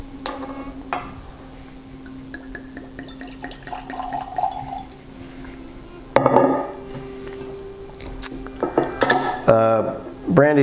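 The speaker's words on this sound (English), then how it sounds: "I'm gonna give it a pour, give it a nose" Ararat Armenian brandy is poured into a glass: quiet handling sounds, then sharper clinks of bottle on glass and a short burst of trickling liquid, followed by a few more light taps, all close and intimate.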